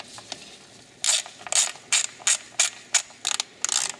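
A ratchet drives the spark plug coil bolts on a Dodge Grand Caravan 3.6 V6, seven or eight bright, close clicking bursts in quick succession after a short pause, with no voices.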